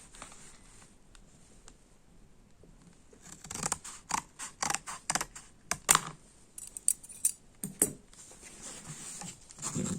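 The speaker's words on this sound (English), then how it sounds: "Apparently, we need scissors. As you can see here, we're supposed to cut from here to there." Scissors snipping through the plastic packaging of a Samsung EVO Plus 256GB microSD card, a run of sharp close cuts and crinkles in quick irregular succession, with no talking.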